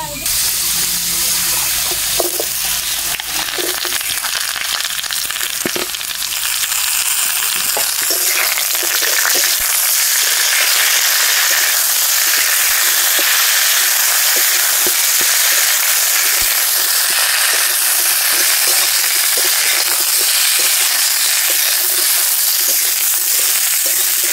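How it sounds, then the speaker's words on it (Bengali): Potatoes and bottle gourd shoots fry in a pan with a loud, dense, continuous sizzle and occasional stirring scrapes, close up and unbroken for the whole stretch. "আলু 3-4 মিনিট ভাজার পর আলু যখন বাদামি হয়ে আসবে তখন প্রথমেই কেটে রাখা লাউয়ের ডগাগুলো দিয়ে দেবো।"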